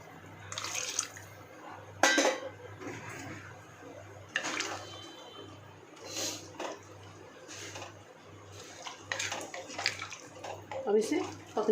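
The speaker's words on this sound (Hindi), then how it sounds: "चिकन स्टॉक का मैंने पानी बनाया था, हम वही गरम गरम ऐड करेंगे इसके अंदर" Hot chicken stock pours and splashes into a pot of chicken pulao in several sloshing bursts, close by, with faint kitchen clatter in the background.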